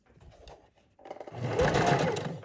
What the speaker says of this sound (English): Here I am going to back stitch just so that will be in there really good.